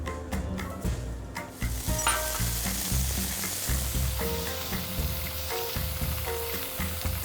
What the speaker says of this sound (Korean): 팬이 달궈지면 기름을 두르고 준비해 놓은 두부를 얹어서 양면을 노릇하게 지져주세요